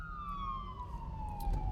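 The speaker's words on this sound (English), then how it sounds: "Ambulance is now passing by." An ambulance siren passes by outside in a slow descending wail, steady and moderately loud over low traffic rumble, heard alone.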